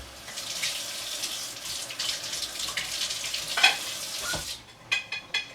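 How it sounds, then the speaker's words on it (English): Tap water runs steadily while a plate is rinsed in a kitchen sink, a broad hissing wash that fills most of the stretch, then stops and gives way to a few short clinks and knocks near the end. "Let me just rinse the plate off a little better."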